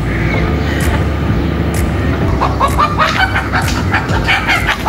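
Hen clucking and fowl calls in a domestic yard, sounding over a constant low rumble, with brief higher squawks toward the end.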